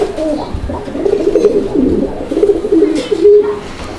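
Pigeons with shiny neck feathers cooing up close in a loft, a pair of high-quality birds giving steady, repeated throaty rolling coos that run continuously through the moment.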